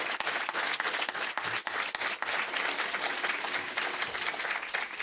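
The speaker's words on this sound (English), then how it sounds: "I think we should give them another round of applause." An audience at a BRACE dementia event claps for Chris and Jane, giving a steady round of applause with some individual sharp claps standing out, continuous and fairly close for the whole stretch.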